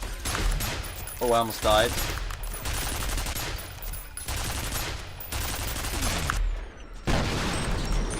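An automated turret in the shooter F.E.A.R. fires rapid, loud bursts of gunfire in repeated volleys with short pauses, and a player's voice briefly talks over the shooting.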